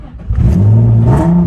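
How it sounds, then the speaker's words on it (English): A Nissan 350Z with a starting fault revs briefly as the throttle is blipped, a loud, close engine note rising and holding for about a second before falling away. "So I'm gonna show you now trying to blip the throttle."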